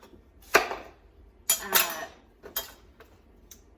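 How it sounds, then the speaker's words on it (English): A knife slices through a pumpkin while the top and bottom are cut off for canning, giving three or four short crunching, scraping cuts separated by pauses, close and fairly quiet with no talk. "Easiest to sort of cut the top off and then also cut this bottom off."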